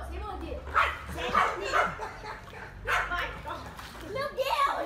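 Dog barking at the beach, playing in the surf, with several short barks and yips scattered under children's shouting and talk, close by, over steady wave and wind noise.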